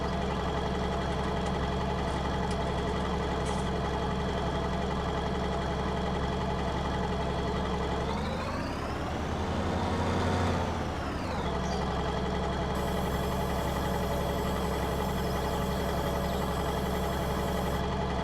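Deep, steady idle from a modded harvester with a low-slung exhaust pipe in Farming Simulator 19 on PS4, loud and close, rising briefly midway before falling back to an even rumble.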